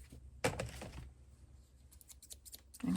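Small thread snippers cut paper for a personal journal, giving a few crisp, close snips and scratchy rustles spread across a quiet moment.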